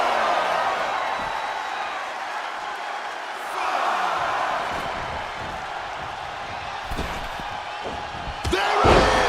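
A spear slam lands in the WWE 2K26 wrestling video game: a heavy thud near the end, with a cheering arena crowd and commentary-like voices throughout.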